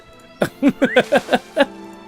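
A horse in a game near Rivendell gives a short whinny of about seven quick, harmonic pulses. It sounds close and stands alone in a quiet background.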